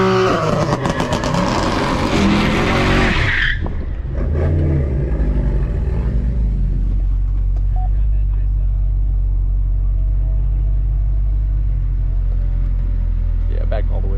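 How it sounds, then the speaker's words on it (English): A high-horsepower car doing a burnout at a roll-race event, starting with loud, harsh revving and tire roar that cuts off after a few seconds into a steady deep idle rumble, with voices talking faintly underneath. "I'm gonna do a little burnout."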